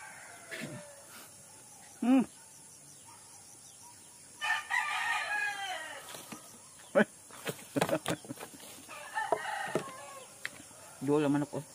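Roosters crow and cluck in short scattered calls, one near and others farther off, with quiet talk between them in a rural night setting.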